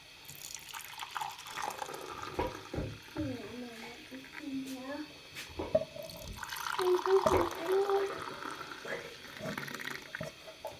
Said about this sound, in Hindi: अब इस तरह से हम कप के अंदर ऐड कर लेंगे।